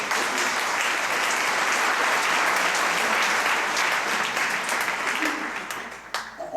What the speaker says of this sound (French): On peut vraiment vous applaudir.